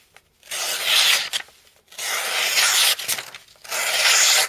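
Rasping strokes from a Spyderco Manbug knife with a VG10 factory edge in a cutting test, three long scraping cuts close up with short pauses between them.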